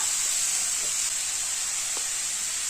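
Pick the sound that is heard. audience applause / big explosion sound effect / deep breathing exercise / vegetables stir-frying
vegetables stir-frying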